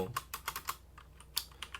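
Crisp, rapid keystrokes on an APEX M500 mechanical gaming keyboard, about a dozen clicky presses in uneven bursts, close-up and fairly quiet, with no voices.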